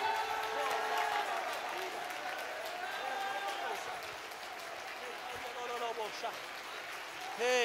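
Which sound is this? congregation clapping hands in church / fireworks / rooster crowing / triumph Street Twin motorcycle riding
congregation clapping hands in church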